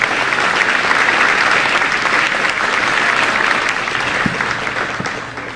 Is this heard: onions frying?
no